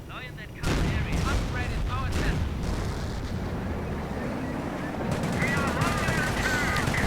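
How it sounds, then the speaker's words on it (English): Artillery and gunfire roar through a real-time strategy battle with Panther tanks and British infantry, a dense rumble of blasts and rattling shots that swells after a brief quieter opening, with a voice talking over it. "I think we are seeing more artillery in an attempt to hit the Panthers"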